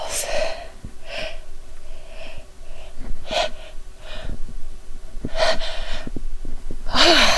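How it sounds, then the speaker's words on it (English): A woman sneezes repeatedly after smelling soap, several sharp bursts with gasping inhales and sniffs between them, close and loud, the last one the strongest. "I'm gonna sneeze again."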